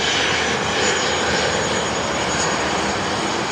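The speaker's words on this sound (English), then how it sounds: "The Falcon 7X." Dassault Falcon 7X business jet taxiing past at Sydney Airport, a steady broadband engine roar holding level and fairly close throughout, with no voices.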